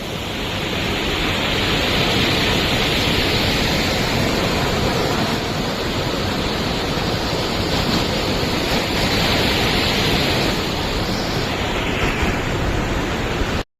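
Dense, steady roar of the Jogini waterfall in the Himalayas, a continuous broadband rush of falling water close by, unbroken and loud throughout with no voices.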